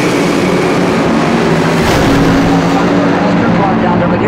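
An AA/Fuel nitro dragster at an NHRA Heritage Series drag strip meet roars loudly and continuously, a dense, saturated engine blast that holds full volume throughout with no break.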